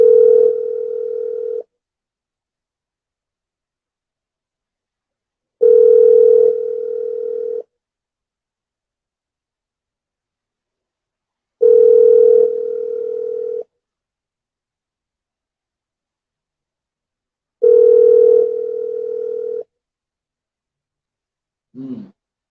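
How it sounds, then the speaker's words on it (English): A telephone ringback tone while a call to a guest connects: four long steady electronic tones, each about two seconds, separated by silent gaps of around four seconds, clear and close, ending on a brief fragment. "It's ringing."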